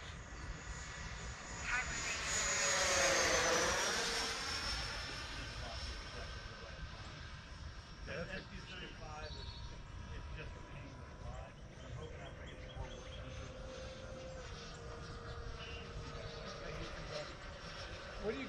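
An E-Flite F-16 model jet on an evening flight whooshes past with a rising then falling pass, loudest early on, then settles into a steadier distant whine while people talk quietly nearby.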